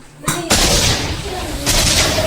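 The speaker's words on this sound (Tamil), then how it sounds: "ஸ்குவிட் போட்ட அடுத்த நிமிஷமே வெடிக்க ஆரம்பிச்சிருச்சு" Squid frying in hot oil bursts with sharp, loud pops and cracks, a few explosive bangs over a dense, hissing sizzle.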